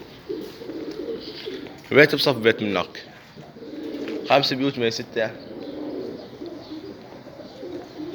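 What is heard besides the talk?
pigeons cooing on a rooftop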